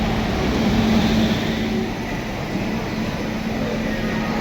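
A WAP-5 electric locomotive hauling the Howrah Amrit Bharat Express, a steady loud rumbling roar with a faint whining tone, continuous and close throughout.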